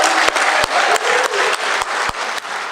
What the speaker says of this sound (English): So give Bobby a big round of applause, please.